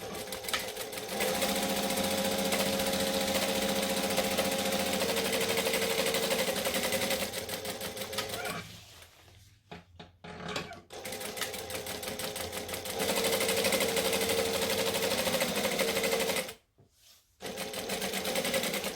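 A sewing machine stitches fabric in long, steady runs of fast mechanical whirring, close up, with two brief stops where the motor pauses before starting again.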